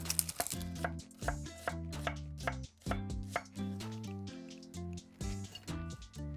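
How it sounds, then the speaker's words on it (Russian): A knife slices an onion into half rings on a board for pilaf, giving a run of quick, close chopping taps beneath steady melodic background music. "Нарежем полукольцами."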